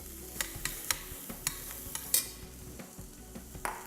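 Chopped onions go into a hot pan with no oil and sizzle faintly, broken by a run of sharp irregular crackles and pops and light stirring scrapes. The sound is close and quiet, with no talk.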